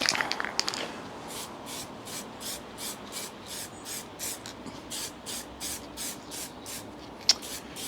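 A steady series of short hissing sprays from a spray gun painting a Land Rover Series 3, evenly spaced bursts of airy noise repeating one after another, close by, with a couple of faint clicks.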